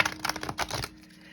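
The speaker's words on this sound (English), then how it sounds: "So I'll do a couple more shuffles on this deck." A tarot card deck being shuffled by hand, giving quick papery riffling clicks in a brisk rhythm close up that stop abruptly, leaving quiet.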